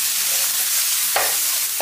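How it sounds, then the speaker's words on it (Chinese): Green peppers stir-fried in a wok until blistered and soft, a steady loud sizzle with scraping spatula strokes, two sharp bursts of hissing near the end. "大概给它煸炒个1分钟左右，炒至辣椒像这样起虎皮状就可以"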